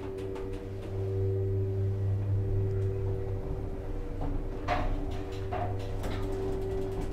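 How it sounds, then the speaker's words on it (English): Low steady hum and drone of a Thyssen hydraulic elevator in a Marks & Spencer store in Nottingham as the lift rises, with a faint rumble and a few soft clicks, close and continuous. "Lift going up."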